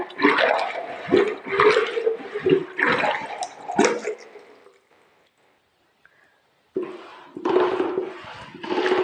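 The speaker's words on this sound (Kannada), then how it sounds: "ಮಜ್ಜಿಗೆ ಕಡಿದು ಬೆಣ್ಣೆ ತೆಗೆಯುವ ವಿಧಾನ ನೋಡಿ" Buttermilk is churned by hand to extract butter, producing loud rhythmic sloshing, splashing surges in bursts, a near-silent pause of about two seconds, then the churning resumes just as strongly.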